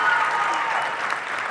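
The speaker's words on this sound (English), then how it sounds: "Another round of applause for everyone." Audience applause filling a hall, a dense continuous roar of many hands clapping at close range with no pauses.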